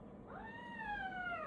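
A cat gives a single drawn-out meow, rising then falling, during a vaccine at a vet clinic, close but fairly quiet, with no other sound.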